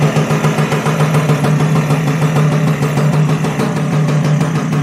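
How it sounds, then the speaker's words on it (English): Lambretta TV175 scooter engine fitted with BGM Sport exhausts idling close by, a steady, loud, throbbing putter that runs without a break and with no talk over it. "They sound really nice, those BGM Sport exhausts."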